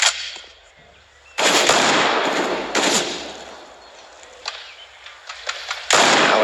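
Rapid rifle gunfire in Counter-Strike: Global Offensive, several loud bursts of automatic fire, the longest in the middle, with fainter shots and quieter stretches between them.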